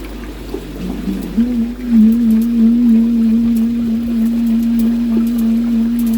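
Pond pump forcing water down a pipe into a garden pond with an airlock in the line: a loud, steady, close mechanical hum rises in after a second and holds over a low watery rumble, with no talking.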